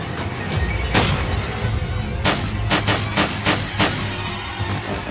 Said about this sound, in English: empties that gun into Peter Martinez from a range of 3 or 4 feet